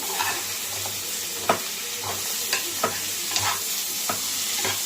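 Carrot with toor dal and turmeric fries in a pan, a steady close sizzle with repeated scrapes and stirring strokes of a spatula, heard alone with no talking.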